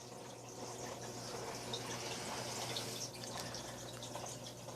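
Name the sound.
Marineland 200 aquarium filter running, water flowing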